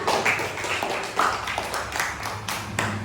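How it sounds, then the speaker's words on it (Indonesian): Students clapping their hands in a classroom, an uneven run of fairly loud close claps with irregular rhythm and a little background chatter. "Tepuk tangan."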